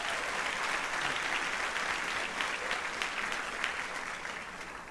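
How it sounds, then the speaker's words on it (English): At a high school achievement awards ceremony, a crowd applauds the assistant principal with a steady, even wash of clapping. It holds at a moderate distance and gradually tapers off toward the end. "So how about one more round of applause for our Assistant Principal?"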